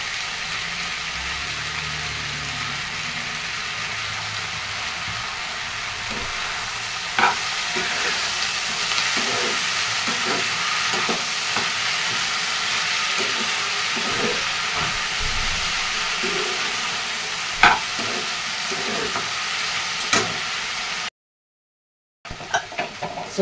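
Moong dal and vegetables sizzle steadily in a hot pan, with a continuous frying hiss and occasional scraping stirs throughout, close and loud, broken by a brief gap near the end.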